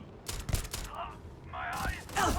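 Brief cracks of gunfire in a Starfield firefight, with a few quick shots early on under a layer of game noise and voices.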